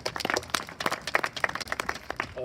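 An audience at an eighth-grade promotion ceremony breaks into applause, a brief burst of many hands clapping in a dense, uneven patter at moderate distance.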